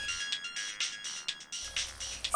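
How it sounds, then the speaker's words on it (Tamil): A phone ringtone chimes in a repeating electronic pattern, clear and fairly close, ringing in short bursts with no one speaking. "என்னம்மா ஃபோன் அடிச்சதுமே எடுத்துட்ட?"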